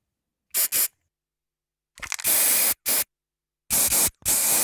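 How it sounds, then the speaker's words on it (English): Bursts of hissing from a graffiti spray can, a short double spritz followed by longer sustained sprays and a final pair of blasts, each separated by silence, close and loud with no talking. "what about this spray can?"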